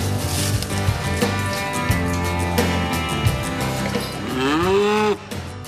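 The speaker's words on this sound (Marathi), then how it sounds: "हीच ती मुर्हा म्हैस." A Murrah buffalo moos loudly and close by, one long drawn call that rises and bends near its end, standing out over steady farmyard background noise.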